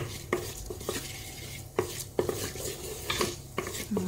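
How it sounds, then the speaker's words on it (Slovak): A pot of vegetable soup sputtering and spitting on the stove, with irregular sharp pops and clicks over a constant low cooking hiss, close to the listener. "Presne v tomto bode, keď to takto už prská"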